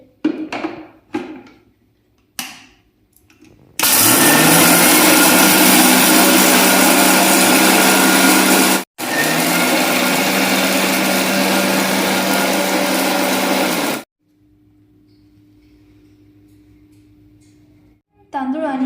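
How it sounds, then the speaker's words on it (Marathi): A kitchen mixer grinder whirs loudly as it grinds a bowl of poha with two spoons of rice for aloo tikki, running in two long continuous bursts separated by a brief pause, with a few clicks and knocks before and a quieter hum afterward. "ते असे मिक्सरच्या भांड्यामध्ये"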